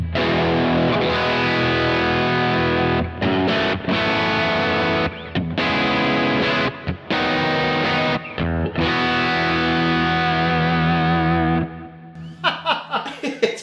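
Electric guitar through a Kemper Trem-Luxe B5 amp profile from a '63 Trem-Luxe pack, loud distorted sustained chords with short stops and restarts, ending in quieter picked notes.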